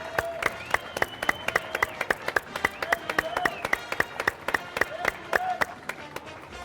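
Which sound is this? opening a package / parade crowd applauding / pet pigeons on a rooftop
parade crowd applauding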